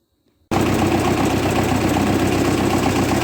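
A 1958 Oliver 550 diesel tractor engine, with exhaust hazing diesel fuel, starts abruptly after a brief silence and runs loudly and steadily at idle, with a rough, knocking low rumble.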